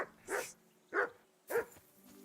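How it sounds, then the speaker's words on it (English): A dog in a role-playing video game barks three times at an even pace, each sharp and close with a gap between, and a soft whine in the background. "Whistle at that mutt of yours to stop barking."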